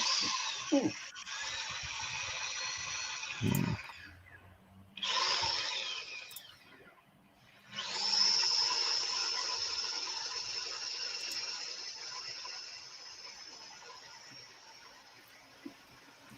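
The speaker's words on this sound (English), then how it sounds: "We'll do a little bit of sanding here." Abrasive whirring hiss of sanding a walnut winged bowl on a spinning lathe, cutting out briefly twice with short knocks, then running steadily again.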